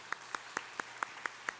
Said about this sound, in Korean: 우리 함께 박수로 또 환영하도록 하겠습니다.